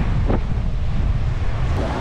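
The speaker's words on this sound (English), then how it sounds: "It might be a bit windy for you guys." Heavy wind by the sea in the Philippines buffets the microphone in a constant low roar, with a faint wash of surf beneath the rumbling gusts.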